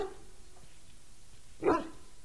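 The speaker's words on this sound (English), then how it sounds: "Hello, puppy!" A dog barks once in Dragon Age: Origins, a single short, fairly loud bark standing alone over a quiet game background.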